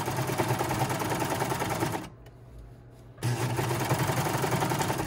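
A serger runs through a single layer of skirt facing fabric with no trimming, its fast steady buzz stopping for about a second midway before resuming just as loud.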